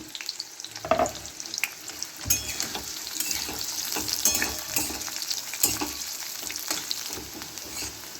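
Onions and round-sliced garlic frying in a pan, a steady close sizzle with repeated stirring scrapes and spoon knocks throughout, no voices.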